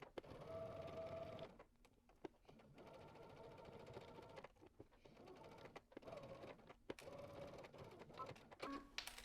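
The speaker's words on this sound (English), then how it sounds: "let's head to the sewing machine and we're going to stitch in the ditch" A sewing machine runs in several bursts of rapid stitching in the ditch on a dress, close and steady, separated by short pauses and small clicks.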